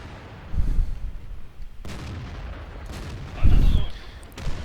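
Tank cannon fire in World of Tanks rings out in a few heavy distant booms with rumbling decay, fairly low in level beneath the game's background noise.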